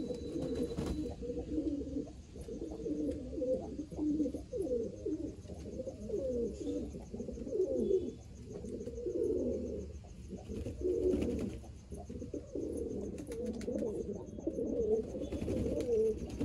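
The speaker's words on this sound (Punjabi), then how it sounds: "ਆਹ ਦੇਖੋ ਜੀ ਕਬੂਤਰ ਬਾਜੀ" Several pigeons coo continuously in a loft where hens sit on eggs, layered throaty burbling over a constant low hum, close and steady throughout.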